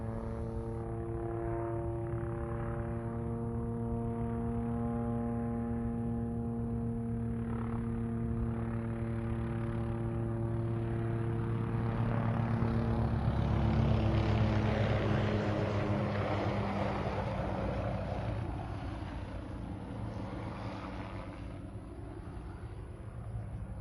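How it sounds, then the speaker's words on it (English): A Huey helicopter in a video game approaches from a distance, its rotor and engine drone swelling to a loud peak midway and then fading slightly, with no talk. "Now here comes the whoop, whoop, whoop of that Huey from show left."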